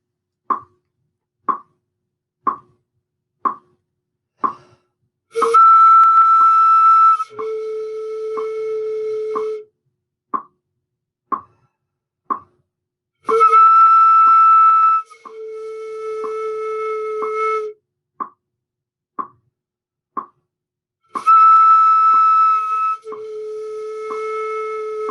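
A flute plays a high note sliding smoothly down to a lower one, repeated three times, separated by steady ticking clicks like a metronome.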